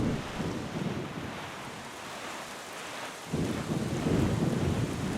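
Thunderstorm rain and rumbling thunder in The Legend of Zelda: The Wind Waker HD, a steady hiss of rain that swells into a louder rumble partway through, with no talking.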